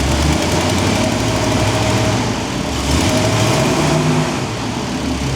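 A Ford big block 460 V8 fitted with vintage high-compression heads idles steadily, a loud, continuous rumbling drone with a slightly uneven lope, close by and with no voices over it.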